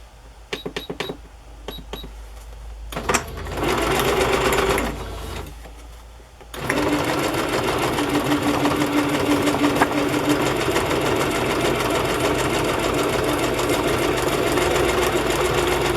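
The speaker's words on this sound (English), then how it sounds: "I'm just going to sew this on the edge here. Well, it would help if I turn my machine on." Sewing machine stitching along the edge of a handmade journal: a few clicks and short bursts start it, then a steady, loud, close mechanical whir runs continuously to the end.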